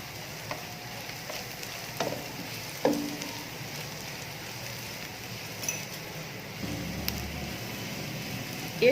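Whole cumin seeds sizzle in hot oil in a pan, a soft continuous crackle with a few light clinks of a utensil against metal, fairly quiet and close, with no talk.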